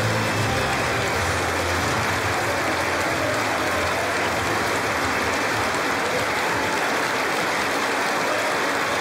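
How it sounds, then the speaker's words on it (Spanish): A large arena crowd at a lucha libre memorial tribute cheers, shouts and applauds continuously, a dense, loud, unbroken roar of clapping and voices. "Un minuto de grandes gritos, aplausos, como a él le gustaba."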